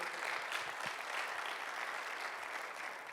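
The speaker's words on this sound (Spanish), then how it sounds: "dale un aplauso al Señor" A church congregation applauds steadily during a sermon, a dense wash of clapping hands that holds at an even level throughout.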